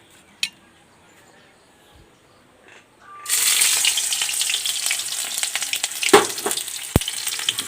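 Onions dropped into hot oil in a pot set off a sudden loud, crackling sizzle after a quiet start with a few light clinks, then keep frying steadily with occasional utensil knocks.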